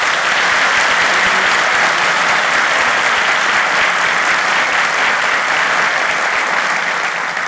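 A theatre audience in Bakırköy, Istanbul, applauds at the start of a show, a dense, sustained burst of many hands clapping, loud and close throughout.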